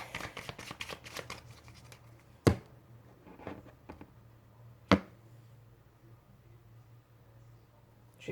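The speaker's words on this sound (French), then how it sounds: "On va faire une coupe." A deck of cards is shuffled with a quick riffling patter, followed by quiet handling and two sharp slaps as the deck is cut and tapped down, heard close and fairly soft.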